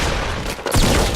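Dense, loud gunfire and blasts in a Fortnite squads match on Xbox One X, a continuous barrage that briefly dips before a sharp burst.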